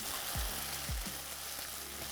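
Ginger garlic paste fries with browned onions in a pan, a soft, close sizzle broken by two quick low thuds as the mixture is stirred.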